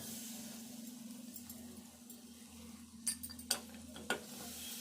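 A spoon stirs jaggery in hot ghee in a pan, a quiet sizzling scrape under a steady low hum, then a few sharp metallic taps near the end.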